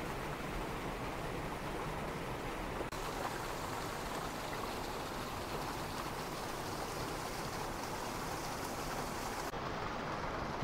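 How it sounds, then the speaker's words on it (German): Steady broadband rush of water flowing through a gorge stream in the Black Forest, constant and fairly close, with no voices or breaks. "Da kommt das Wasser rüber"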